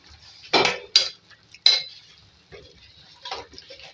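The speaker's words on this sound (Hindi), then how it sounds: "अब इसके अंदर ऐड करेंगे फ्राई की हुई भिंडी" Fried okra being tipped into a pot of boiling gravy, heard as a few sharp metallic clinks and scrapes of utensils against the pot, close, with quiet gaps between them.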